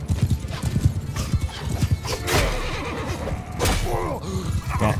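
Horses in the video game Mount & Blade II Bannerlord, rapid galloping hoof clatter under battle noise with two loud neighs rising over it, close and busy throughout.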